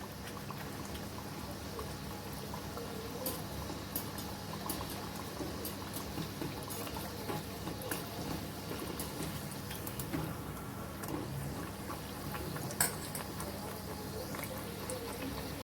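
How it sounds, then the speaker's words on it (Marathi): Modak deep-frying in hot oil over a medium flame, a steady soft sizzle and bubbling that runs the whole time at low level, with no voices. "हे बघा अशा प्रकारे आपल्याला ती छान अशी तळून घ्यायची मस्त तांबूस रंगावर"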